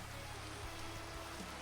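Steady rain falls in Minecraft, a soft, even patter that stays faint and constant throughout the brief moment.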